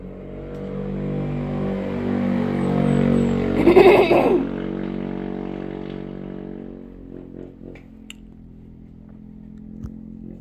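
A motorcycle passes by outdoors, its engine drone rising to a peak and then fading away into the distance, with quieter background sounds afterward.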